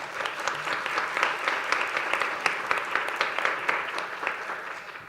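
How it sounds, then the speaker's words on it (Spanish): An audience in a Casa de Justicia hall gives steady, dense applause to welcome a guest at a talk on femicide, a continuous wash of many hands clapping at even loudness. "Un aplauso para ella,"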